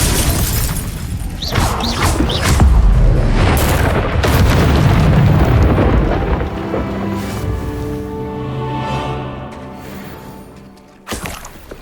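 In the Hogwarts Legacy video game, a Confringo spell erupts in a loud, booming fiery blast with crashing, shattering debris, followed by a long rumbling decay and a sharp final hit.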